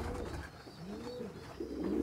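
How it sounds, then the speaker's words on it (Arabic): Pigeons in a loft holding around 1,100 birds coo continuously and close by, with overlapping low, throaty calls and no talking. "هذا عدد الحمام، ها هو كيف كتلاحظوا"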